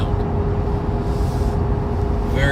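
Inside a compact two-seater car, the engine hums with a steady, close, low rumble and a constant tonal drone throughout the moment.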